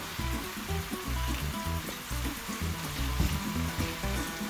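Shrimp for spicy gambas al ajillo sizzle steadily in hot garlic oil in a pan. The frying crackle is close and fairly soft, with small pops over a constant hiss and no talking.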